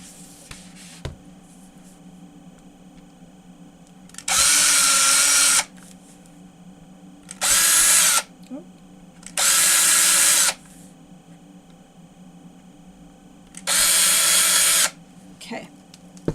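A power drill bores holes through a stack of paper for book binding, four loud bursts of whirring spaced several seconds apart, each lasting one to two seconds, over a quiet room hum.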